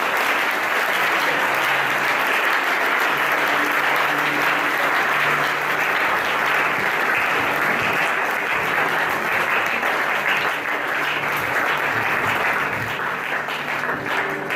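A church congregation applauds during a consecration service, steady dense clapping from many hands that fills the room loudly and evenly throughout.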